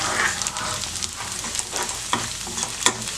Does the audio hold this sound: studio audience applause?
no